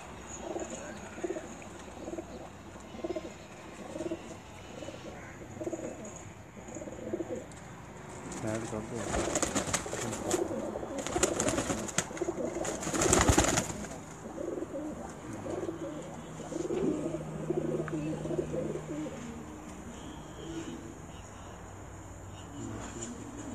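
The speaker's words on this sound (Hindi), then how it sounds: "ये कबूतर रात रह के सुबह आया था।" A pigeon coos repeatedly in soft rhythmic phrases over quiet background, with a burst of louder rustling noise midway; the cooing continues afterward.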